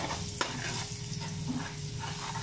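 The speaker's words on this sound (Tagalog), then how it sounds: "Ayan, magigisa na siya ngayon po yung bawang." Chopped garlic sizzling steadily in hot oil in a pan, a close continuous fry with light stirring and one brief clink of a utensil.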